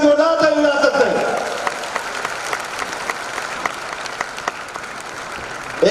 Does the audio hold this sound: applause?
yes